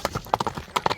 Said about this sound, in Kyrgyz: Жигитали, ат кандай тарбиясы келген окшойт